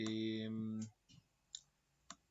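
Mouse clicks on a computer during a tutorial on geographic data and coordinates, heard as three short, sharp clicks spaced apart in a quiet room right after a voice stops talking.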